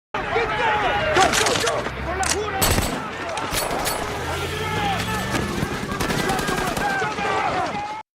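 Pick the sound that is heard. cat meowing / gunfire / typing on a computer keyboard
gunfire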